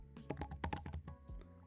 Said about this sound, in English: Start typing the folder name